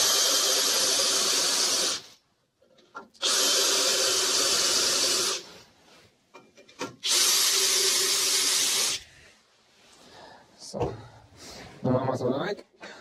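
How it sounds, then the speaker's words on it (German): A drill press boring a hole through workpiece for a homemade firewood bundling device: a loud, steady high-pitched machine whine runs in long bursts, stopping and restarting, with short gaps filled by clatter and a few brief voice sounds. "Und dann gehen wir auf die Ständerbohrmaschine und bohren das Loch durch."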